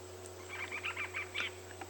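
A bird on safari at a private game reserve repeats a short, monotonous call several times in a row, faint and fairly close, over a steady background hum.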